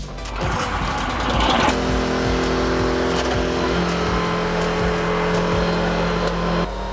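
The roughly 14-horsepower gas engine of a 41-ton Venom log splitter runs loud and close, a steady droning rumble with a rising pitch early on, then holding an even hum under the work.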